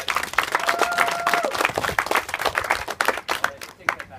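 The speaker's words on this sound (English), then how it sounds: "Give her a round of applause, everybody." Audience applause at a Fort Mackinac cannon demonstration, a lively burst of scattered outdoor clapping with distinct individual claps standing out, swelling and thinning unevenly over about four seconds.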